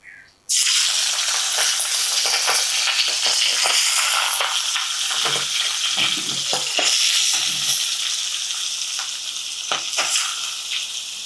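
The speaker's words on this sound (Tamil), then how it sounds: "இனி நாங்கள் எண்ணெயை ஊற்றுவோம் இறாலை போடுவோம்" Prawns hit hot oil in a pan for a Sri Lankan prawn curry and sizzle loudly and continuously, a dense crackling hiss that starts abruptly and keeps going, with occasional stirring clatters and pops, no talking.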